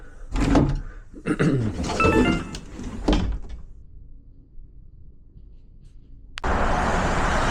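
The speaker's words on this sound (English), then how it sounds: "Something about these closet doors, they just don't want to open." Closet doors in a house are tugged open with a burst of knocks, rattles and thuds over about three seconds. A quiet stretch follows, then a steady broadband rush of noise sets in.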